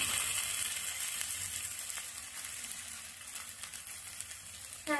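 Ginger garlic paste sizzles as it is stirred into chicken in a pan, a steady close frying hiss with faint scraping of the spoon throughout, no voices.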